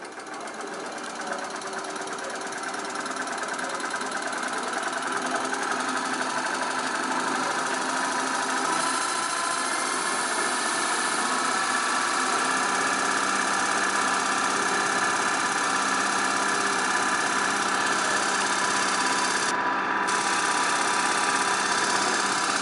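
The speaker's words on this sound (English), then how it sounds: "You can see the motor has started running at 1000 RPM." A permanent magnet brushless DC motor runs at about 1000 RPM on a test bench, its steady mechanical hum and whine holding constant and fairly loud with no talking.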